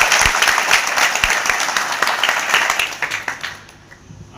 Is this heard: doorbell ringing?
no